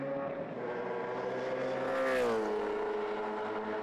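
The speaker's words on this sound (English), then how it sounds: "the 2013 Nissan Altima V8 Supercar was rolled out at Calder Park Raceway for the first part" 2013 Nissan Altima V8 Supercar running at Calder Park Raceway, a loud V8 engine note holding steady then swelling and bending in pitch as it passes close by.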